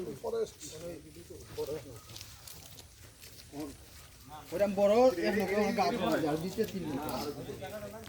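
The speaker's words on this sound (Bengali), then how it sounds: "পাখি কলরব শোনা যাচ্ছে।" Birds call through the Ratargul swamp forest, a faint chorus sitting beneath several people talking close by throughout.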